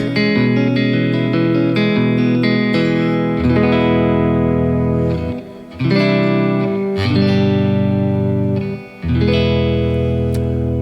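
Electric guitar chords through a Neural Nano Cortex with its reverb on ring out with a wash of reverb, sustained and loud, with brief pauses between strummed phrases.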